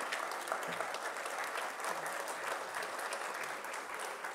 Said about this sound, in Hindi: एक बार जोरदार तालियां निखिल भैया के माताजी पिताजी के लिए